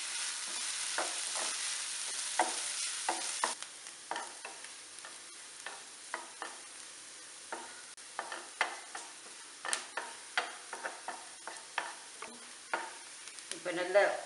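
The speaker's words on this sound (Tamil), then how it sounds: "ஏழு பச்சை மிளகாய் பொடிசாக கட் பண்ணி அதையும் கூட போட்டிருக்கேன். அது நல்ல பொன்னிறமாக வறுபட்டு வரணும்." Green chillies and curry leaves fry in oil for Kerala inji puli, a loud hiss at first that settles into a quieter sizzle beneath a long run of rhythmic spoon scrapes and taps against the pan.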